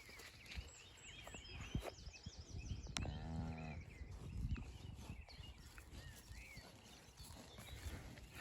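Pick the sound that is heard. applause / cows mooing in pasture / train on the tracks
cows mooing in pasture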